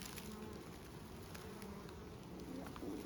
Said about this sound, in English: It's on me. It's a bee.